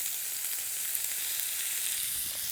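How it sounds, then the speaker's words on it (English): A steady, bright sizzle of octopus tentacles searing on a hot grill, continuous crackling hiss at close range with no voices. "That's what we're looking for, that nice sizzle"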